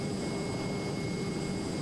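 Steady, continuous roar of a Hawker Hunter jet engine in flight in Microsoft Flight Simulator, a broad constant rumble with a faint high whine, holding at even loudness throughout with no talk.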